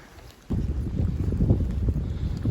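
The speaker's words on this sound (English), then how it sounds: "It is windy, very foggy." Strong wind on a foggy Appalachian Trail mountainside buffets the microphone with a steady low roar, starting abruptly after a brief quiet moment and continuing loudly throughout.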